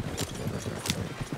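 Horse hooves clip-clopping at a steady walking pace in the open-world Western video game Red Dead Redemption 2, the regular hoof strikes close and clear, with no talk over them.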